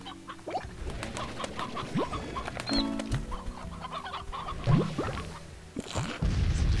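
In-game chickens cluck in Slime Rancher, with scattered soft clucks and chirps over a busy background of game sounds and occasional swooping tones, louder toward the end.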